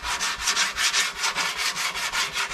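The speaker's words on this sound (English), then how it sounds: "The whole rest of it's been sanded now" Hand sanding on the metal bodywork of a 30-year-old chopper motorcycle, a bobber, gives a close, steady rasp in quick back-and-forth strokes, about a dozen even passes with no voices.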